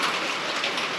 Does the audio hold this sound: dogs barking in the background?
no